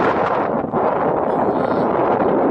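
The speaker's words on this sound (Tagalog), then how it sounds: "Kung narinig niya yung hangin, yung bunin ng hangin." Strong wind buffets the microphone in a continuous, rough roar throughout.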